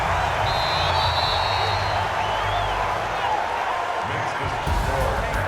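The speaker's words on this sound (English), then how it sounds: "And the home crowd applauding." A home crowd applauds in the video game Madden NFL, a steady wash of clapping and cheering that fills the stadium, with a whistle-like tone briefly rising above it.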